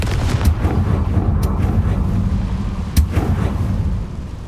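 A Confringo explosion spell goes off in the video game Hogwarts Legacy, giving loud, deep rumbling booms with a couple of sharp blasts around one and three seconds, close and without talk.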